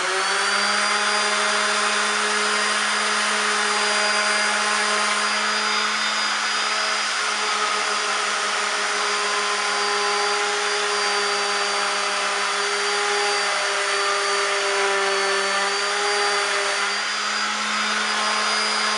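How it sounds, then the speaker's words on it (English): DeWalt power sander with 120-grit paper smoothing bondo on a cabinet door repair, a steady loud motor whine with sustained tonal drone running uninterrupted throughout, close and alone. "120 grit on my DeWalt sander, and I'm just going to go easy."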